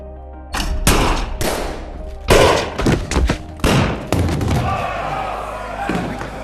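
Gunshots fired from a revolver in a film ring out as several loud, sharp bursts spread over a few seconds, mixed with thuds and crowd-like commotion under a dense, echoing background.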